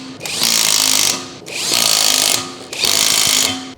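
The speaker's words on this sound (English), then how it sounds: "Using a 19mm deep socket with the impact wrench." Three bursts from an impact wrench with a 19mm deep socket tightening lug nuts on a Ford Fusion wheel, each a loud buzzing whir lasting about a second, close and without talk.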